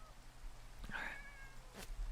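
Cats meow in a Minecraft game, giving a single faint, short meow followed by a brief second cry over a quiet low hum, with no talking.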